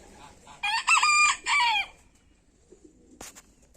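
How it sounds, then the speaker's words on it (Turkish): A Swedish rooster crows once, clear and fairly close, its call rising and falling, followed by quiet and a faint click. "Evet, İsveç horoz."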